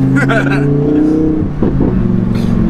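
A Lamborghini engine revs with exhaust bangs, a sustained harmonic drone with rising pitch sweeps and a few sharp crackles near the middle, loud and close, with people talking over it.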